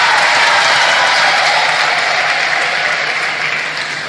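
A church congregation at a requiem Mass for Pope Benedict XVI applauds during the homily, a loud, dense wash of many hands clapping that holds steady and then begins to fade slightly toward the end.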